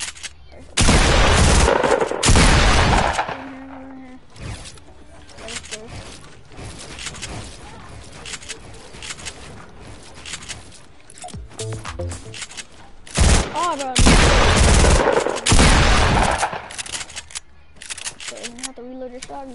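Gunfire from shooting in a Fortnite-style duos battle game, loud bursts of rapid automatic fire recurring across the clip with quieter stretches between, mixed with game effects and a player talking over it.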